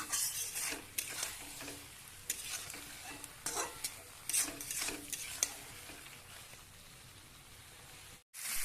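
Jackfruit being cooked down with masala and a little water in a pan, with soft sizzling and scattered stirring and spoon scrapes throughout, fairly faint and close, with no talking.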